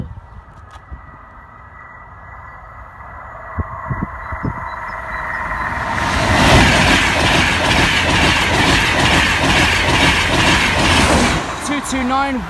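A locomotive-hauled train rumbles through Church Lane level crossing, quiet at first and then loud and close from about six seconds with steady wheel clatter, ending in a brief squeal; a voice is faintly heard early on.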